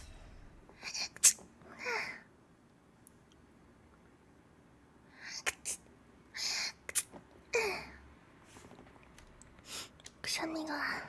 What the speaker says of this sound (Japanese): くしゃみが